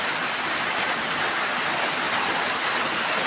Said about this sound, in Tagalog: Sugsug ng ulan